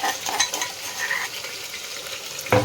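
Spice masala hits hot tempering oil and fries with a steady, close crackling sizzle that holds for the whole stretch, ending in a brief louder clatter.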